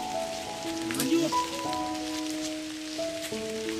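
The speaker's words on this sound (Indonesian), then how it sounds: "Gerimis." Light drizzle falls steadily outdoors on a mountain hiking trail, a soft continuous patter with faint tonal sounds drifting over it and no speech.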